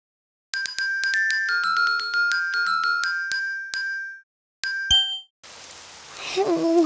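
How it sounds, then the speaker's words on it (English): Rain in a Daniel Tiger children's video game arrives as a steady soft hiss over the final second and a half, after a bright chiming melody and a single ding; a voice begins under the rain at the very end. "Oh, it's raining outside."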